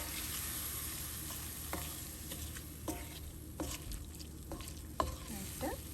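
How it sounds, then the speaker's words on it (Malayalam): Chopped lemon for curry naranga pickle is stirred into a hot pan, with a low continuous sizzle under intermittent scraping and knocking strokes of the spoon against the pan, close and fairly quiet. "ഈ അരിഞ്ഞ് വെച്ചേക്കുന്ന നാരങ്ങ നമുക്ക് ഇട്ട് കൊടുക്കാം. ഒന്ന് മിക്സ് ചെയ്തെടുക്കുക."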